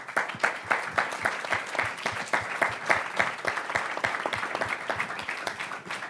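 A conference audience applauds panelists at the end of a tech panel discussion, with many hands clapping in a dense, sustained round that slowly eases off.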